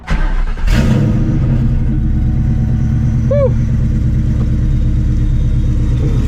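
A supercharged 2004 Mustang GT making about 600 horsepower on its stock engine, heard from inside while driving: a loud, steady, deep engine rumble that runs throughout, with one short exclamation from a voice near the start.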